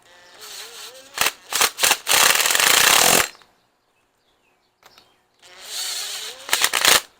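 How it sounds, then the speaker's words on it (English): Short bursts of a power tool snugging down cylinder head bolts on a Ford 302 small-block engine, with a longer sustained run in the middle; close and loud, with someone talking before and after. "I'm just snugging the bolts down, bringing them down to"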